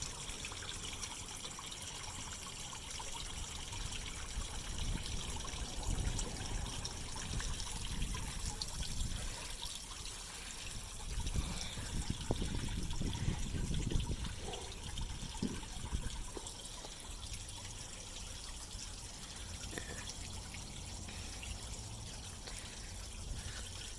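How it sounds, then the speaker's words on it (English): A small, cute decorative water fountain trickling steadily at close range, a continuous soft splashing wash with slightly fuller surges midway, no voices over it. "And this water fountain is so cute."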